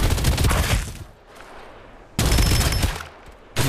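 Gunfire in the video game Farlight 84: a loud, dense burst of rapid automatic shots, a brief lull with softer noise, then another sustained loud burst and the start of a third.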